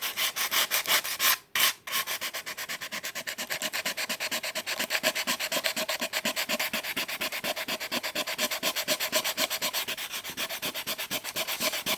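Hand sanding wood with sandpaper along the grain, close rhythmic rasping strokes repeating evenly back and forth for the whole stretch, with one brief pause early on.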